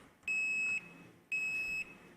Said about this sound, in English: I'm sure my finalists want me to check that buzzer